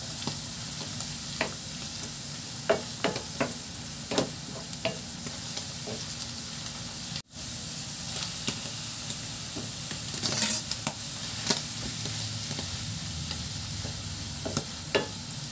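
Corned beef with mushroom sputters and sizzles in a pan, with a steady fry broken by frequent sharp pops and utensil scrapes, close and continuous, with one brief dropout near the middle.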